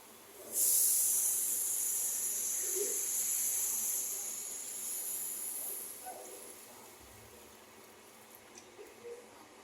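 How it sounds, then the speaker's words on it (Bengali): Water poured into hot, fried spice masala for an onion pakora and potato gravy hisses loudly at once, a strong steamy sizzle that slowly fades and softens over several seconds, with no voices. "এবারে আমি এর মধ্যে দিয়ে দিচ্ছি পরিমাণ মতন জল"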